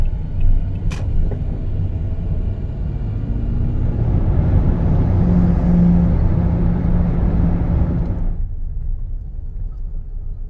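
A heavily loaded car cruising on the road, a steady low engine and tyre rumble heard from inside that swells slightly midway, then the upper noise drops away abruptly near the end, leaving a softer drone.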